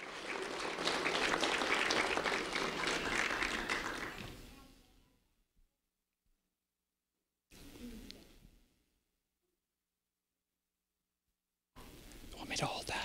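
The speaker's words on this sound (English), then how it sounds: "a round of applause for Owen Whitaker Kurtz" Audience applause for a fifth grade student, several seconds of full clapping fading out to silence, then a short second burst and another beginning at the end.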